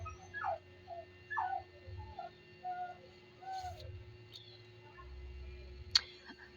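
A dog yips and whimpers in short, scattered bursts in the background, fairly faint, with a steady electrical hum and one sharp click.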